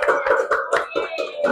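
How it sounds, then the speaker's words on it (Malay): A class of students clapping for themselves, a short burst of quick irregular claps close by, with a little voice mixed in. "tepuk tangan untuk diri sendiri"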